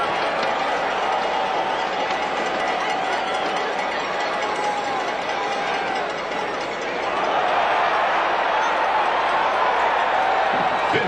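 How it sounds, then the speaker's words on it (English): Stadium crowd at a 2006 college football game against Fresno State roars steadily through a punt, pass and kick contest, a dense wash of cheering that swells louder near the end. "We need some crowd noise, so help him out"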